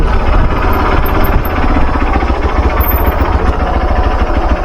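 A motorbike engine runs steadily and loudly up close while the rider squeezes through narrow lanes around a gurdwara, a continuous mid-pitched chug with no pauses and no talking.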